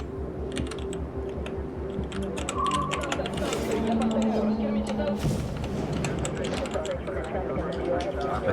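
Rapid computer keyboard typing, close and clattery in irregular bursts, running under several people talking over an Xbox E3 2015 media briefing stream.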